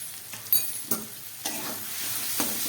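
Chicken tarka with spices and a little potato frying over low gas, a soft continuous sizzle broken by several scraping stirs of the spoon, close and fairly quiet.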